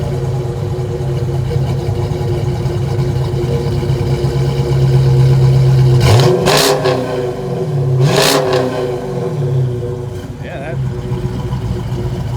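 A cammed 5.7L V8 with a Hearst Elite catback and two Super 10 Flowmaster mufflers idles with a loping burble, then gives two sharp revs. Someone talks briefly over the engine.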